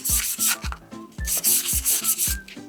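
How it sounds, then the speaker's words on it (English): 120 grit sandpaper scuffs the slick surface of a Malossi CVT clutch for a Vespa Primavera in quick, close scratchy strokes with light knocking taps, roughly a dozen rubs in under three seconds. "I am gonna scuff this up with some 120 grit because this does feel very slick"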